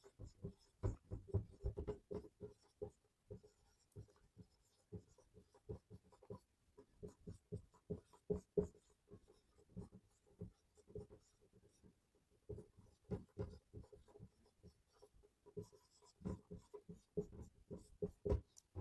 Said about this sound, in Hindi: एक बार और लिख देता हूँ।